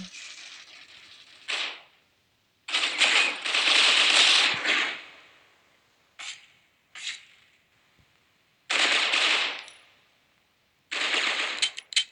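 Gunfire in a shooting video game, with several sharp bursts of automatic fire separated by short pauses, loud and close, with no talk over it.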